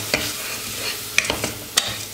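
Washed red lentils being stirred and dry-roasted in a pot, with a few sharp scraping strokes over a soft steady sizzle, close and alone.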